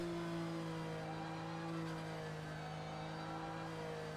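A Porsche 911 GT3 engine in Project Cars 2, on the Mount Panorama circuit, holds a steady, fairly quiet high-rev drone with a constant tonal whine and no pauses or gear changes.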